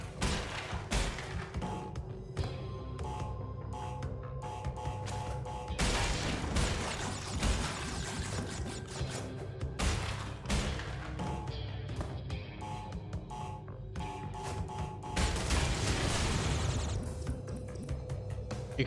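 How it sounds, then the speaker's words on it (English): Explosions and booming impacts from the Crash Bandicoot video game, a dense, continuous run of thuds, crashes and bursts layered with game music and effects, loud and busy throughout. "The explosion got me? The explosion got me."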